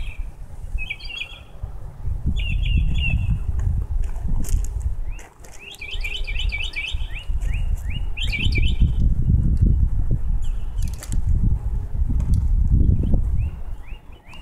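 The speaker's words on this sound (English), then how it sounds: "Listen to these beautiful birds." Several birds sing outdoors in bright, repeated chirping phrases, some near and clear, against a low rumbling background.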